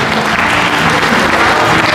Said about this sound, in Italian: Facciamo un applauso a Vincenzo.